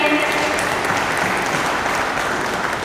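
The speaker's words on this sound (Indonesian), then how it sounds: "Boleh kasih tepuk tangannya Bapak Ibu semuanya?" An audience at a car dealership opening in Indonesia claps together in a dense, sustained burst of applause lasting a few seconds.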